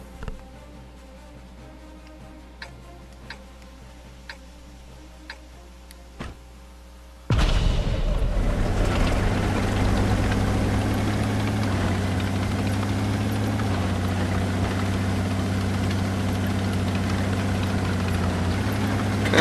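In World of Tanks, the German Sturer Emil tank destroyer's engine starts up partway through and then drones loud and steady. A deep, constant low rumble with mechanical whir carries on to the end, and no one speaks.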